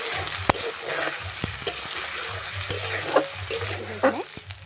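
Ginger-garlic paste stirred and fried in a pan for a chicken curry, a steady sizzle with repeated scraping and clinking strokes of a spoon against the pan, close and continuous.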